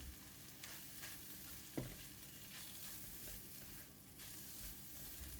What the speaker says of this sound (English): Add in a bit of cut spring onions and give it a mix.